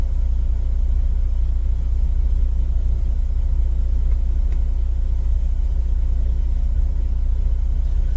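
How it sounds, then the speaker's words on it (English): A truck engine idles steadily nearby, a constant low rumble that holds unchanged throughout with no talk over it. "I know I have my truck running"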